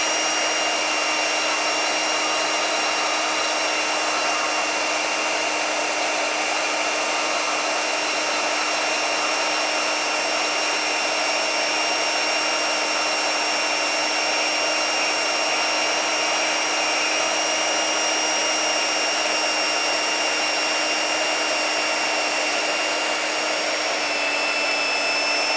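A Harbor Freight Bauer band saw runs through a steady cut, its motor and blade giving a continuous even whine with a rubbing hiss at moderate level, unchanging for the whole stretch with no talk.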